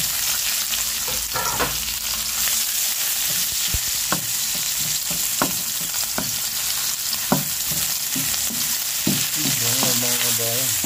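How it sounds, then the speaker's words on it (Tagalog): Garlic and onion sautéing in a hot oiled pan, a dense continuous sizzle close by with scattered clinks and scrapes of stirring throughout. "gisa lang po natin yung ating bawang"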